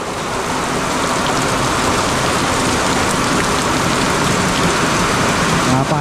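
Heavy rain pours down in a dense, loud, continuous hiss of drops hitting surfaces close by, steady throughout with no letup.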